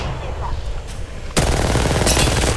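Gunfire in the video game Apex Legends, a quiet stretch of faint background sounds that breaks suddenly into a loud, sustained burst of rapid shots.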